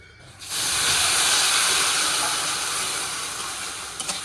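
Water splashed into hot oil with sugar and panch phoron in a home kitchen pan, letting out a sudden loud, steady sizzle that fades slowly over a few seconds.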